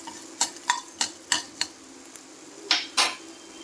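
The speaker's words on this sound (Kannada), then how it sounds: "ಮೆಂತ್ಯ 1/2 ಟೇಬಲ್ ಸ್ಪೂನು ಇದು ಒಂದು ನಿಮಿಷ ಚೆನ್ನಾಗಿ ಫ್ರೈ ಆಗಬೇಕು" Fenugreek seeds fry in a pan while a spoon stirs, giving a series of sharp metallic scrapes and clinks in an uneven rhythm over a soft background sizzle.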